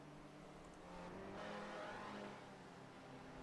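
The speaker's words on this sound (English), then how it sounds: "It's funny how you can hear the other cars but not see them." Mazda MX-5s and Spec Racer Fords roar along a track at a distance, engine noise swelling as they pass and then easing off, with no one talking.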